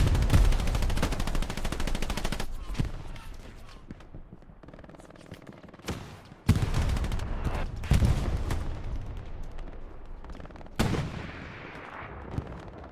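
In Hell Let Loose at Carentan, gunfire and anti-tank gun shots ring out in a match, with sharp loud booms and rattling bursts that decay into echoing tails, separated by quieter gaps.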